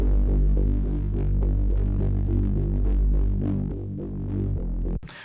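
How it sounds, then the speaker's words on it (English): A loud, buzzy saw bass synthesizer drones and pulses with a thick, gritty tone, cutting off abruptly near the end. "We have this big bass, this big saw bass."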